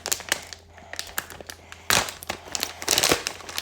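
A plastic Kuromi packet is unwrapped up close, giving bursts of crinkling and crackling with sharp louder rustles near the end.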